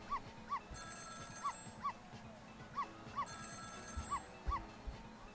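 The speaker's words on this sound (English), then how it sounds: "It was the sound of a telephone ringing coming from the apartment next door." In the video game Ghost Trick, a telephone rings in the apartment next door, with repeated short electronic ring bursts in a regular pattern over faint background music.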